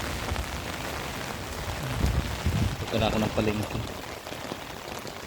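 Steady rain falls at a market in Parañaque during a typhoon, a dense continuous hiss of drops under a nearby voice speaking.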